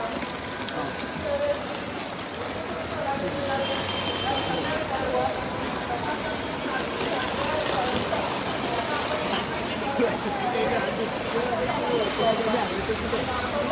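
Steady rain patters continuously on surfaces, a dense even hiss lasting throughout at moderate loudness with no clear voices.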